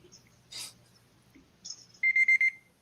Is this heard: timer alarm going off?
yes